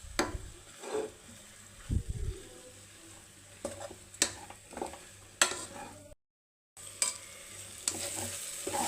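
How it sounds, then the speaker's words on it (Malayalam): Chopped tomatoes, coriander leaves and green chilies sautéing in a pan, a soft sizzle broken by irregular spoon stirs and scrapes against the metal, with one brief silent gap. "തക്കാളിയൊക്കെ നമുക്ക് ചെറുതായിട്ടൊന്ന് വഴണ്ടിട്ടുണ്ട്"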